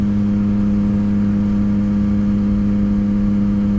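A 2016 Yamaha FZ-09 motorcycle with a Power Commander and full titanium Akrapovic exhaust, its engine held at a steady loud drone with a strong low tonal hum, no speech.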